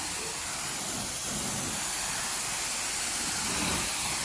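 Carpet rinse solution, a strong 2.5 pH TRU-rinse, sprays steadily onto dog-damaged carpet with a continuous close hiss that holds even for several seconds, with no one talking.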